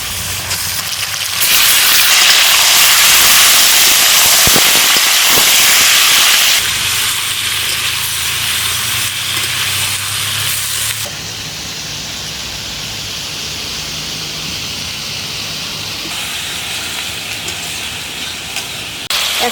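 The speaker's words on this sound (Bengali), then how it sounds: "আমি মাংসটাও আলুর মধ্যে দিয়ে ভেজে নেব।" Meat and potatoes frying together in mustard oil in a pan, a strong continuous hiss and sizzle that gradually settles to a quieter steady frying sound, with brief clatter of stirring.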